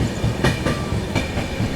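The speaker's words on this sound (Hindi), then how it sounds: "चलिए यहाँ पर अपनी ट्रेन जो है दोस्तों इटावा जंक्शन स्किप करने जा रही है" The 15658 Brahmaputra Mail express runs at speed through Etawah Junction, its wheels beating a quick, loud clickety-clack rhythm over rail joints with a steady rumble underneath.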